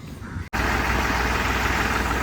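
New Holland 3630 tractor engine running steadily, a loud continuous diesel rumble with broadband noise, briefly cut at half a second before resuming.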